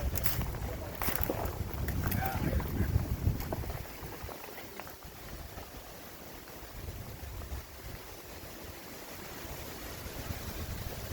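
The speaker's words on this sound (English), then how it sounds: "Wind is brutal." Strong gusty wind sweeps across abandoned mine mill ruins with large ore bins, a continuous rushing roar that buffets the microphone and swells and eases in waves.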